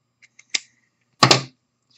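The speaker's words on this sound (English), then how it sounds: "I then go back with a pair of pinking shears, trim it down to about 1/8 of an inch or so" Pinking shears snip through fleece fabric to trim a seam allowance: a few faint ticks, then one sharp crunching cut, close and alone.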